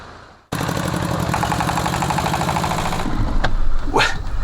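Vehicle driving along a dusty mountain road on the Tea and Horse Trail: a loud, close engine rumble with rattling and jolting that keeps up steadily after a sudden start.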